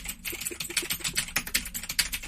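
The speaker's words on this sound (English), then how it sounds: "here's me clacking around on a joystick and buttons" Rapid clacking of an arcade joystick and buttons mixed with computer keyboard typing, a dense run of sharp close clicks and taps throughout with no voices.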